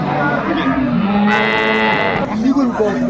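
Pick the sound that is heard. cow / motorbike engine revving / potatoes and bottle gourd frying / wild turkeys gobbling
cow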